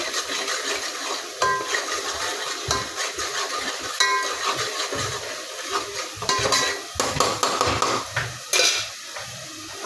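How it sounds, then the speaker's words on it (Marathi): Turmeric and salt fry in a pan for a village-style fish curry, giving a steady sizzle broken by scraping and clinks of a utensil against metal as the mix is stirred, close and continuous. "आता आपण पहिले हे हळद मिठातच चांगलं असं फ्राय करून घेऊया"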